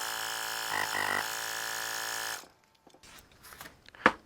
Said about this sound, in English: These little pumps are pretty cool. They're actually really quiet.